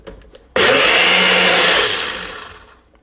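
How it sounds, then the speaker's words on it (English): A blender with pineapple cocktail mix kicks on with a loud whir for a second or two, then spins down and fades out. "this will go back to the blender just for a really quick fast whiz"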